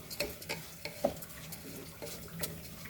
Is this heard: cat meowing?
no